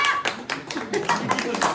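Hands clap in a quick, uneven burst at a birthday celebration, several people clapping together up close while children and adults talk over the applause.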